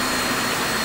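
Vector Vortex dry dental vacuum system running on 24 volt DC, with its exhaust on a Y connector: a loud, steady whooshing whine, close and unbroken, with no voices.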